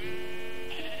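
A Minecraft sheep lets out one steady, wavering bleat, close and loud throughout the full second with no voices over it.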